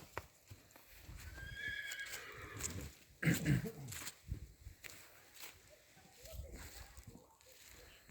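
A stallion neighs loudly up close at a horse sale, with hoof clops and shuffling around it and a person speaking briefly in the background.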